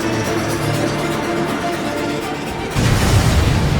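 Missiles explode on ground targets in the video game Ace Combat 7, a steady low roar breaking into a heavier rumbling boom toward the end.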